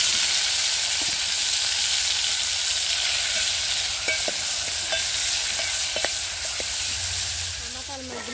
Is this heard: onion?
yes